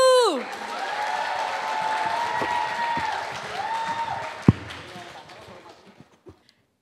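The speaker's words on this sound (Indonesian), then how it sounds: "Ayo tepuk tangan dulu yang meriah kepada Bapak Mardigu" A crowd claps and cheers for the speaker Bapak Mardigu at an event, a broad, steady wash of applause with scattered whoops and a sustained musical tone underneath, fading toward the end.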